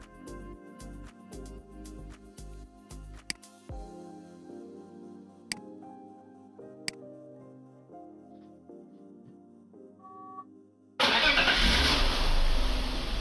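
A BMW 7 Series E38 728i with the M52 engine, set to start on LPG, turns over and fires in a sudden loud burst after a stretch of quiet clicks and faint tones, then settles into a steady engine run.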